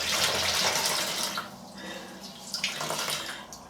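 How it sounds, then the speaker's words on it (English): Running water splashes at a bathroom sink as a face is wetted, a steady close hiss of tap flow broken by irregular splashes from cupped hands, with no talk. "So let me wet my face"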